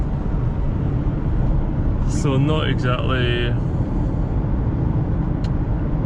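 A 2024 Nissan Juke with a 1.0-litre engine under full throttle at speed, a steady broad interior roar with road and wind noise throughout, while someone talks briefly partway through.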